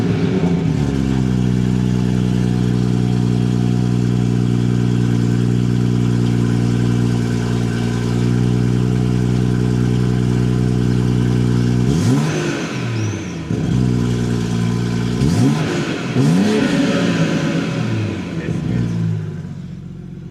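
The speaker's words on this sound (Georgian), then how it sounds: "მოდი ახლა დავქოქოთ და ხმას მოусმინოთ" A tuned BMW F30 engine fires up and settles into a loud, steady hum close by, then gets revved several times in rising and falling bursts, with a voice talking faintly underneath.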